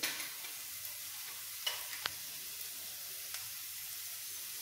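Cooked potatoes for aloo poha stirred in a pan with red chili and coriander powder, giving a soft steady sizzle with a few sharp spoon scrapes against the pan, fairly quiet and without talk.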